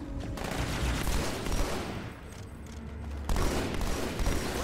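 Dense battle rifle gunfire in the Halo 2 Anniversary video game: loud, rapid bursts of shots over constant battle noise, with a brief lull before the firing resumes.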